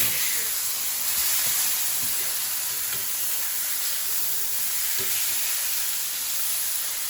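Tuna steak sizzling in a hot pan just after being flipped, a steady, even hiss of frying that carries on unbroken with no talk.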